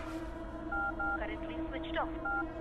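Telephone keypad dialing tones beep in short, evenly spaced pairs of steady electronic notes, with a brief pause between them, over a background hum, while someone speaks in the middle of the sequence.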